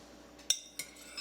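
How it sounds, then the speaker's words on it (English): Spoon against a dish while sauce goes over a stuffed pepper: two or three faint, sharp metallic clinks a fraction of a second apart, close by, with no talking over them. "Put it in a dish, spoon some more of the sauce over it."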